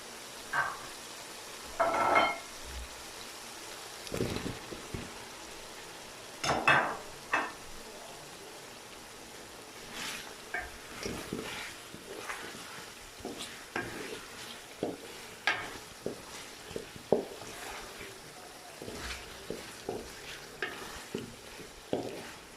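Potatoes fry in a spicy masala while a utensil stirs and scrapes the pan, producing intermittent clatters and scrapes over a constant low sizzle at close range.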